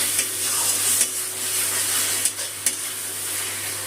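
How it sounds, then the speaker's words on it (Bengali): Ginger, garlic and green chili paste sautés in a pan for a fish curry, giving a continuous close sizzle with a few soft stirring knocks. "আদা রসুন আর কাঁচা লঙ্কা বাটাটাও কষিয়ে নিলাম।"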